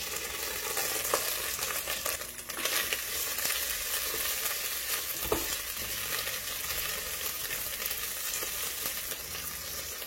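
Shrimp shells fry in olive oil with garlic cloves, giving a steady, close hiss and sizzle with occasional crackles and stirring scrapes, and no talk.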